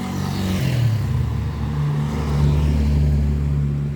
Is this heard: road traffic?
yes